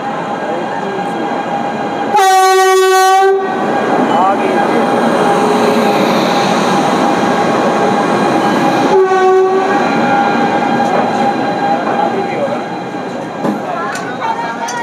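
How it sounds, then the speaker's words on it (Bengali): Passenger train pulling out of a station, a loud blaring horn blast near the start and a second shorter blast later, over a continuous heavy rumble and rattle of the carriages; close and loud, with faint voices in the background. "ছেড়ে দিল কিন্তু আমাদের জেসির থেকে ট্রেন"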